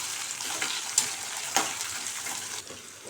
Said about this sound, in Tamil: சின்ன வெங்காயம் சேர்த்து நல்லா கொஞ்ச நேரம் பூண்டும் வெங்காயமும் நல்லா வதங்குற அளவுக்கு